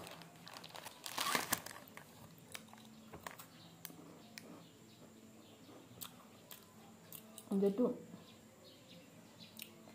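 A plastic cake packet crinkles sharply up close in two main bursts, with faint bird chirps and quiet background sounds between.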